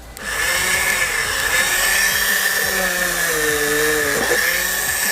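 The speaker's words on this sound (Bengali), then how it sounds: "কত ইজিলি কিন্তু খুবই সুন্দর ড্রিল হয়ে গেল এরকম মোটা একটি কাঠ" A loud homemade rechargeable power drill whines steadily as it bores through thick wood, the motor pitch dipping briefly under load near the end.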